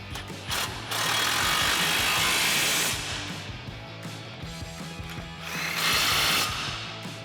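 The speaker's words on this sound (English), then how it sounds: "we'll tighten those back down with our 18mm socket" Factory 18mm nuts being tightened with an 18mm socket onto the mounting studs while a 2004-2020 Ford F-150 front upper control arm is installed, heard as loud power-tool bursts with ratcheting mechanical rattle in between.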